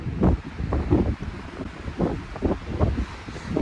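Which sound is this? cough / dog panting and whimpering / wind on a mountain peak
wind on a mountain peak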